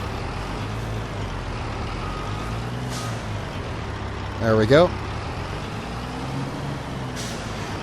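A sugar truck unloads at a jam production site in Farming Simulator 22, its engine droning steadily while a brief hiss and a few mechanical clunks sound midway; a voice speaks briefly.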